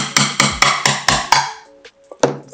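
A hammer strikes a nail into a metal can to punch a hole: six sharp, evenly spaced metallic blows in quick succession, then a brief pause and one final louder hit.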